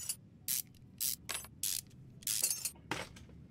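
Virtual mechanic screws come off an engine timing cover in Car Mechanic Simulator 2021: a series of short, crisp ratcheting clicks in separate bursts, about seven in quick succession.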